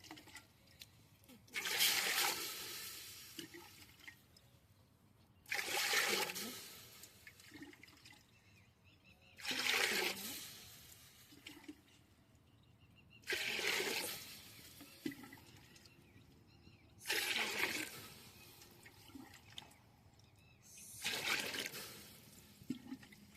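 Water pours into a pot in six separate bursts of a few seconds each, poured from a small metal pot at regular intervals, with quiet pauses between, while preparing sago papads.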